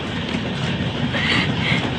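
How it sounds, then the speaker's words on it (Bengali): A train passes near a village, a broad steady rumble and clatter of rail cars that fills the whole stretch, close and loud with no talk. "ট্রেন যাচ্ছে কি সুন্দর।"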